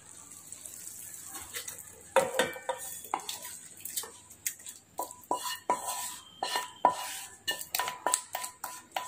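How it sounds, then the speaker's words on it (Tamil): Metal utensils scrape and clink against a pan and mixer jar while masala is transferred, in quick, irregular taps and knocks, close by, with no talking. "மிக்ஸிக்கு நான் இப்போ ட்ரான்ஸ்ஃபர் பண்ணிடுறேன்."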